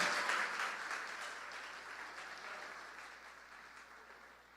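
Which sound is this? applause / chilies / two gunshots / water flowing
applause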